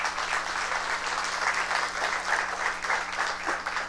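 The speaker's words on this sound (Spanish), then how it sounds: "Démosle un fuerte aplauso al Señor" A church congregation claps for the Lord at a worship service, dense steady applause from many hands filling the room for several seconds, with no voices standing out.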